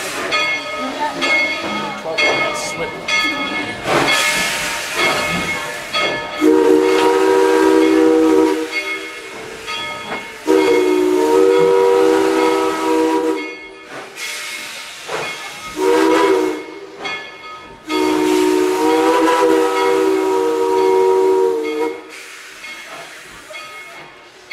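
Narrow gauge steam locomotive on a heritage railway photo run, giving several loud, sustained whistle blasts over a constant steam hiss and chuffing, with short pauses between blasts.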